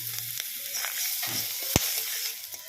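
Sliced garlic and whole garam masala sizzle steadily in hot oil near at hand for a chicken stew, with light stirring scrapes and one sharp clack partway through.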